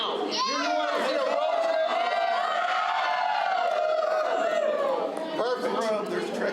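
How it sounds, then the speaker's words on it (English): A convention crowd at a comedy magic show roars and cheers together, a loud sustained wall of many voices with whoops and yells that holds for several seconds before tapering off. "So the trick was getting everybody to cheer."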